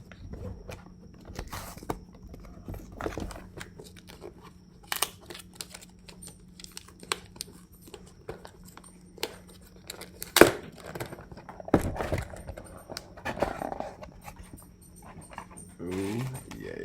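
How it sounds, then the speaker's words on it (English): A dog chews and gnaws on objects nearby, producing scattered crunching, tearing and crinkling bursts at irregular intervals, with a few louder snaps and rustles among quieter clicking. "And my dog is chewing stuff."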